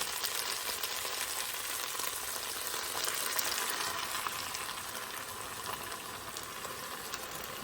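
Chicken frying in a Ninja Possible Cooker sizzles and bubbles steadily after sauce is added, a soft, continuous crackling hiss at low volume with no talking.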